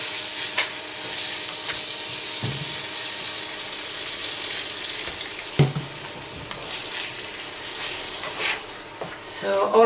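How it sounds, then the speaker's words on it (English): A pan of gravy being stirred while milk is mixed in, a steady wet sizzling bubble running throughout with occasional scrape and clatter of the spoon against the pan, fairly close and without talk. "All I'm doing is I'm just going to keep mixing it until, till it comes like a white creamy."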